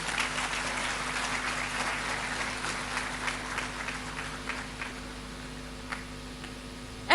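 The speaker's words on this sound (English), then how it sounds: "A better round of applause for her" Audience applause at a programme matriculation and onboarding ceremony, a steady wash of clapping from a crowd that holds throughout and ends with a sharp louder burst.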